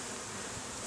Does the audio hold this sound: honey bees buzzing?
yes